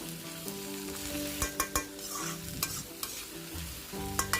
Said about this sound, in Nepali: हतार नगरिकन यसरी तेल निस्किने गरेर मजाले फ्राई गरिदिनु होला है